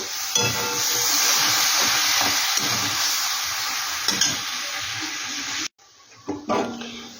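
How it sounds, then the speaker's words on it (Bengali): Spice paste frying and being stirred in a pan for a Bengali gurjali fish curry, a steady loud sizzle with repeated scraping stirs for about six seconds, then a sudden drop to quiet with a few faint clinks. "এবার মশলাটা কিন্তু আমি ভালো করে কষিয়ে নেব"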